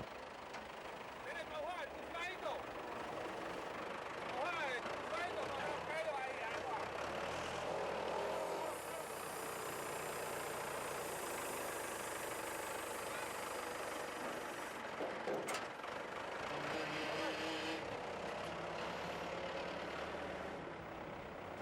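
A schooner's steady engine drone rumbles throughout as it arrives in a rocky bay in the Marquesas, with a voice speaking over it at times and a brief gust of noise partway through.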